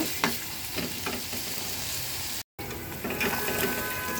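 Onions frying in a pan on a home stove, a steady broadband sizzle broken by a few stirring scrapes and one brief dropout partway through, close and fairly loud.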